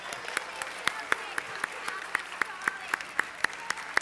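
A small audience claps in a steady, sparse rhythm, sharp individual claps ringing out at regular intervals over a faint background murmur, at a church gathering after a story.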